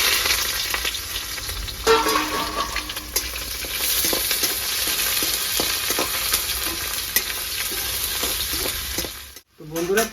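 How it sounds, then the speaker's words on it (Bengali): Chopped onions hit hot mustard oil in a wok with cumin and dried chillies, giving a loud, steady sizzle and frying hiss that runs close and continuous, with a few stirring scrapes and a brief dropout near the end. "এবার দিয়ে দেবো কেটে রাখা পেঁয়াজ।"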